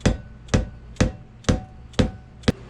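Six evenly spaced, sharp hammer blows about half a second apart, driving a piston with leather seals down into the cylinder of an early-style Bijur lubrication pump; close, crisp impacts with brief ringing decay, no talk.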